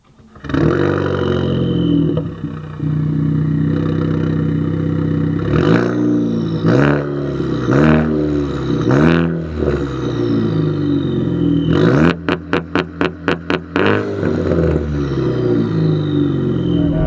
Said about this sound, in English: obviously you hear the little blow-off valve. That's the Turbo Smart dual port